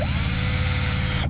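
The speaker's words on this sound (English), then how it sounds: "to drill me a hole." A power drill whirs steadily at high speed for just over a second, loud and close, drilling a hole in a fishing kayak, then cuts off at the end.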